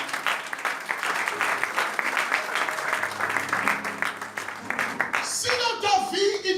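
A church congregation applauds and claps together during a pastor's sermon, sustained crowd clapping throughout with cheers and voices rising near the end.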